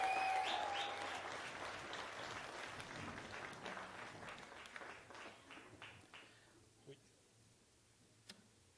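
Applause for a performer at a showcase of artists starts dense and fairly close, then thins into a few scattered claps that die away to near silence.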